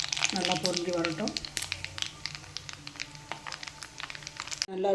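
Tempering spices spluttering in hot sesame oil for lemon pickle, a burst of crackling pops and sizzle up close that fades to scattered sputters before a sudden cut.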